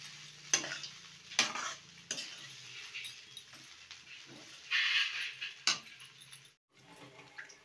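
Flattened rice (poha) being stirred and mixed in a pan for chirer polao, with repeated sharp metallic scrapes and clinks of a spatula over a faint sizzle, close and unhurried, no talking.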